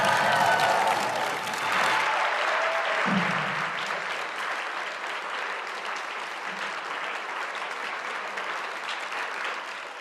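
An audience at a school MLK program claps and cheers for the upper school step team, dense sustained applause filling a large room, strongest at the start and holding steady throughout.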